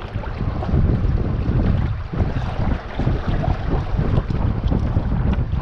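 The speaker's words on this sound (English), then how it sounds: "when our sail is flapping here, we're gonna go ahead and reef it in" Sail flapping in the wind aboard a Hobie Adventure Island sailing kayak on open water: steady, rushing wind buffeting and fluttering canvas, continuous and close, with no talking.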